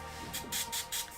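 Makeup setting spray misted over a face: three quick hissing pump bursts in an even rhythm, close and clear, with no talking.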